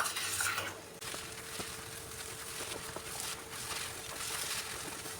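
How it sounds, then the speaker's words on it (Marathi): A spoon stirs jaggery into semolina roasting in ghee in a pan, giving soft, quiet scraping and clinking strokes at an uneven pace over a faint sizzle. "गूळ सगळा मिक्स करून घेऊया रव्यामध्ये."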